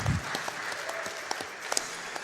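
Applause from a live audience at a speedrunning marathon event, a soft continuous patter of many hands heard at a distance with a few sharper claps standing out.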